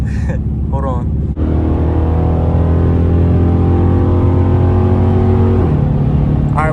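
A 5.7L Dodge Charger R/T with straight pipes driving at night, its deep engine drone loud and steady from inside the car, with a brief shift in pitch midway.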